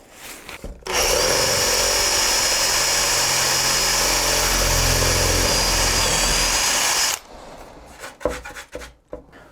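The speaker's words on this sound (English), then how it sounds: "we're just going to use a normal drill bit, ensuring that it's quite sharp" A sharp standard drill bit bores at high speed through a carbon fibre car bonnet backed by a wooden block, a steady loud whining grind lasting several seconds, then stopping into scattered handling knocks.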